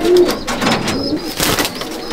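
A loft pigeon is let go by hand, with bursts of wingbeats and soft cooing, close and fairly loud, with no talk.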